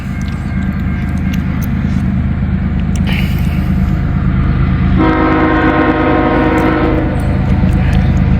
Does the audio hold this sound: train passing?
yes